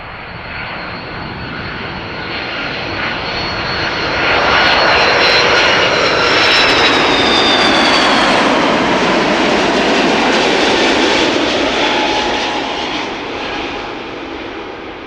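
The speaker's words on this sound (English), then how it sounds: "this is KLM flight 767 and A330 300 arriving from Bonaire" A KLM Airbus A330-300 arriving at Amsterdam Schiphol from Bonaire roars overhead, the jet noise building, peaking loud with a thin engine whine, then slowly easing away.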